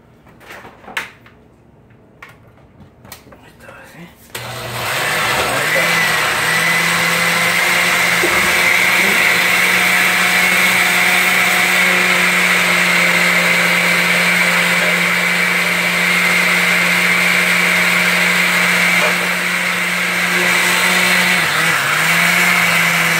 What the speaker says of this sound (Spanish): vamos a batir esto mientras. En la licuadora.